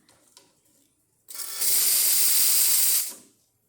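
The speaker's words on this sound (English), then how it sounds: "show you the steam" After a few faint clicks, a Lelit Bianca espresso machine's steam wand bursts into a loud, steady hiss for about two seconds, then cuts off.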